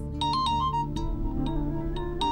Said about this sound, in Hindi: एक मिनट भावना, फोन है मेरा।